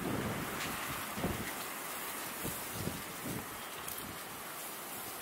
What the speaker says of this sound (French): cet énorme coup de vent